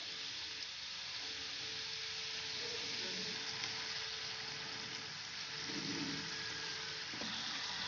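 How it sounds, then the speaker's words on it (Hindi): Savoury gujiya frying in hot oil: a steady, faint, even sizzle that continues throughout with no talk. "इसी तरह हम सारी तल देंगे।"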